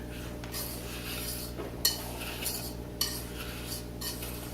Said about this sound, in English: And then you want to mix that up, mix it together.